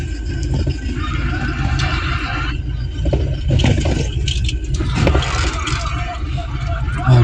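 Motorized tricycle engine running steadily nearby along a crowded street, a continuous mid-loud drone with traffic noise throughout and people talking over it.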